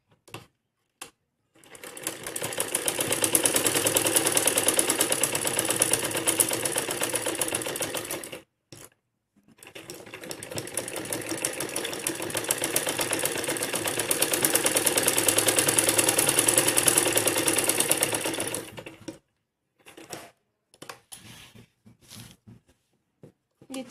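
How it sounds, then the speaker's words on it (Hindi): Electric sewing machine running steadily as it stitches fabric for a fancy garment back design, two long continuous runs separated by a short pause, followed by a few brief taps and adjustments. "इससे थोड़ा सा हटा के हमें एक और सिलाई लगानी है।"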